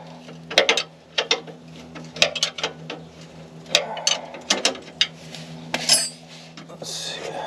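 A 3/4 socket on a ratchet works a bolt loose during a rear coilover install, giving a string of quick metallic clicks and clanks in bursts, close and fairly clear over a low steady hum.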